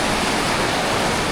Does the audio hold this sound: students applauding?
no